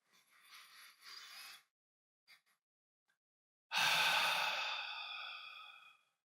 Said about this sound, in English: just settle right now and just take a nice deep breath